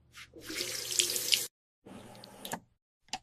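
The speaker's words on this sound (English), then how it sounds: "I wash my hands." Hands being washed under a running household tap: a steady rush of water for over a second, a brief pause, then another burst of flow and a short final splash, close and fairly loud with no talking.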